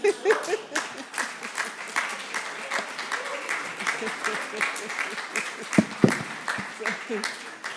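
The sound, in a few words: applause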